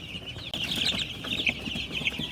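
Many chicks peeping together in a brooder, a dense continuous chorus of high, shrill chirps close by, with no talking.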